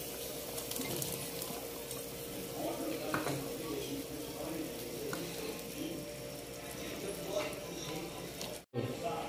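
San Fernando sautéed vegetable mix sizzling in a pot with pork leg, a steady close frying hiss with occasional stirring clatter, while a person talks over it.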